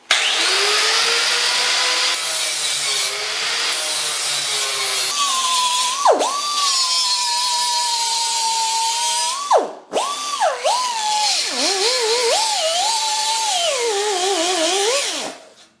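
Angle grinder grinds down welds on the front bumper of a 1976 Mazda RX, a loud continuous whine that dips and wavers in pitch as the disc bites into the metal, briefly cutting out twice before resuming.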